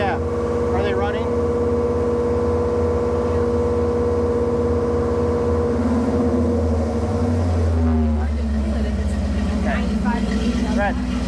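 A 1975 Ford F150 truck with a 390 FE engine idles steadily and loud throughout, a continuous low drone with a brief shift in pitch near the end, while people talk over it.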